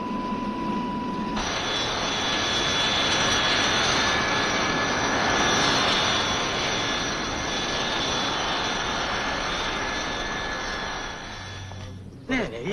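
A propeller aircraft lands and taxis on a runway: a loud, steady engine roar and rushing noise holds nearly the whole time, then drops away near the end.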